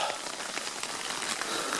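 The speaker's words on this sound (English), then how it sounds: "it starts to rain" Rain pattering steadily on a tent during wild camping by Loch Ness in Scotland, a close, even hiss of drops on fabric that carries on without a break.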